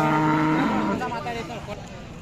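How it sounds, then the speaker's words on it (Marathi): A Khillar cow at a Sunday cattle market in Mudalgi, Raibag, Belagavi, Karnataka lets out one loud, long moo that fades into the murmuring market crowd. "बऱ्यापैकी इकडे दुधाच्या गायी आहेत माझ्या मते."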